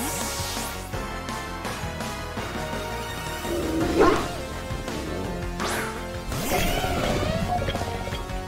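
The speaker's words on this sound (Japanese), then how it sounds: "あ、吠えられたのか。" Pokémon Violet gameplay: a Pokémon lets out barking, roaring cries among crashing battle effects and music, several loud bursts spread unevenly across the stretch, with a stronger roar near the middle.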